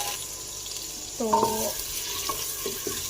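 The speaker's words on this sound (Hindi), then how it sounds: "इधर हम ऑयल में प्याज डालेंगे।" Onions dropped into hot oil in a clay pot, a close sizzle and frying hiss that rises with a brief clatter, then continues steadily with small knocks.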